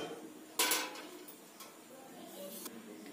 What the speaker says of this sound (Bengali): দেখুন আপনাদের ঢাকনাটা খুলে দেখাচ্ছি